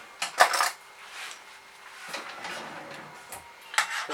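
A spoon clinks against a pot of beef stew, with a couple of bright metallic taps near the start and end and quieter stirring and scraping in between. Nobody is talking.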